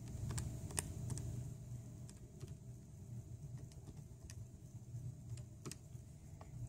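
Soft, irregular key presses tap out an equation on a graphing calculator, quiet clicks scattered over a low background hum with no talking.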